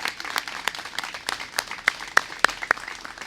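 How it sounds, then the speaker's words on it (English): Scattered applause at an outdoor ribbon cutting for a Moreton Bay fig tree project in Balboa Park, thin, uneven clapping from a modest crowd with a few sharper claps standing out near the end. "round of applause for John, everybody"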